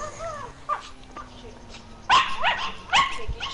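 A dog in GTA V gives a few sharp, loud barks close by, with a voice talking in the opening moments.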